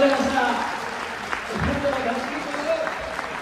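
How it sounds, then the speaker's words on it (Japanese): Audience clapping for Haruki at a 700-guest reception of a Japanese pharmacists' association in Fukuoka, moderately loud and continuous, with a voice speaking over part of it. "ハルキさんに大きな拍手をお願いいたします。"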